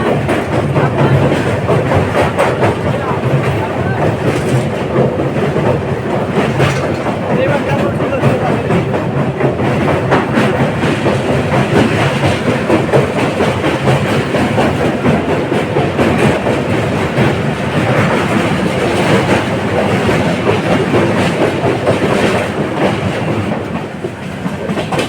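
Kandari Express 22897 on the Howrah to Digha line rolling across the Kolaghat rail bridge over the river, a loud, steady rumble with continuous clickety-clack of wheels on track throughout, close and unbroken.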